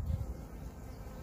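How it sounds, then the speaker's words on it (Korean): Honeybees buzz around crocus flowers outdoors, a close, steady insect drone lasting about a second with no voices. "꿀벌들이 이쪽 저쪽에, 와, 완전 무대기로 앉아있어요."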